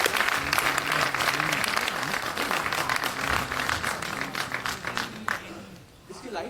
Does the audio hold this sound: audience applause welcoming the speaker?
yes